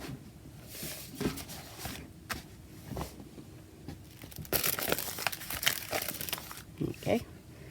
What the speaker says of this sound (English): I'll get some packing paper.